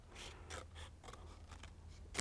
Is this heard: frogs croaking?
no